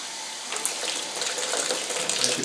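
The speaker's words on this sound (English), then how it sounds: "We can back flush up the block" Water is back flushed through a car engine block and out the top of the radiator, making a steady rushing gush with small splashes and gurgles. The flow is close and continuous, and no one talks.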